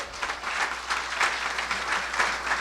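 A church congregation applauds during a sermon in a continuous wash of clapping, fairly close and even, with no voices over it.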